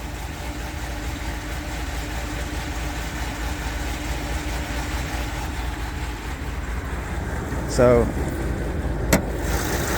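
A 6.4 HEMI V8 in a RAM 2500 truck with a HELLFIRE camshaft idles in a steady, low drone throughout, near and even, with a brief clunk and a short rattling tick toward the end.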